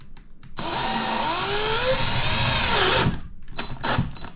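A power drill drives a screw into a panel in a battery and system room: one sustained whine lasting about two and a half seconds, pitch sliding as the screw seats, then stopping, followed by a few short handling knocks.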